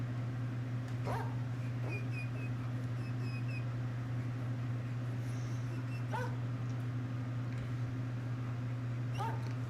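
A dog whimpering and giving a few short yips and barks, faint against a steady low electrical hum with thin background noise.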